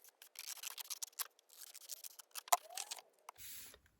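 Scissors snip through paper for a Christmas accordion mini album, a series of crisp close cuts in quick irregular strokes, ending with a brief soft rustle.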